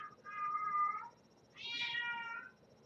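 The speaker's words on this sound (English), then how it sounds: "that's the other cat, if you can hear that." A house cat meows twice, two drawn-out tonal calls separated by a short pause, heard alone and fairly faint against a quiet room.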